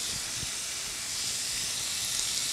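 Shrimp sizzle in a hot pan while being pan-seared, a steady broadband hiss that runs loud and close through the whole stretch with faint pops underneath.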